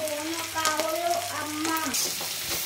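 Garlic and turmeric sizzle steadily as they are stirred in a frying pan, a close, continuous crackle under a voice talking throughout.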